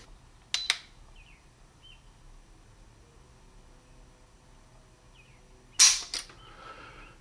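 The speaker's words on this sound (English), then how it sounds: "Let's check out the trigger pull." A 1911 pistol's trigger is pulled against a trigger-pull gauge, giving two sharp clicks near the start and a louder metallic snap with a second click near the end, separated by quiet room tone.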